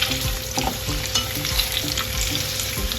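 Duck breasts (magrets) seasoned with pepper sear in a hot pan, giving a loud, steady sizzle and crackle throughout with a few brief stirring or shifting sounds and no talking.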